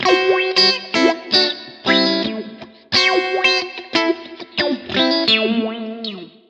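An electric guitar plays chords through an envelope filter modulated by a sine-wave LFO, its tone sweeping smoothly up and down in a wavering, rhythmic wah-like motion.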